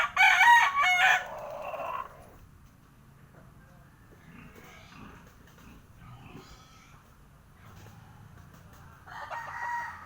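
A seven-month-old straight comb bulik gamefowl rooster crows loudly and close at the start, followed by quiet background clucking and grunting, then a second crow begins at the end.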